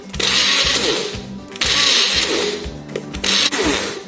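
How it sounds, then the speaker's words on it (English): A kitchen blender pulsing frozen watermelon chunks, loud motor whirring in repeated bursts of roughly a second each, with grinding, rattling ice-like chunks between pulses, close and alone. "Since the watermelon is in frozen state, go into pulse mode and then blend it like that."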